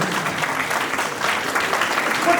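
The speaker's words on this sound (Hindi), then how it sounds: "तालियां बजनी चाहिए हमारे कलरफुल बच्चों के लिए।" Steady audience applause for the children at a play school annual day function, a dense, even wash of clapping filling the room with no pauses.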